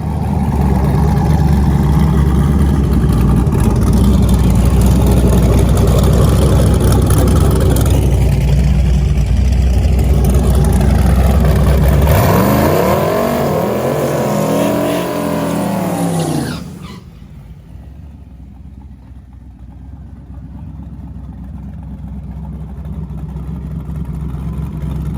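Drag race car launching down a drag strip on a prepped track: a roaring engine at full throttle builds for about twelve seconds, then sweeps upward and fades as the car pulls away, leaving quieter crowd and ambient noise.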